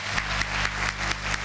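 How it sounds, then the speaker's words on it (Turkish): Applause from an audience in a hall at a guidance lecture, a steady wash of many hands clapping with regular louder pulses, brief and close. "Kocaman, kocaman bir alkış."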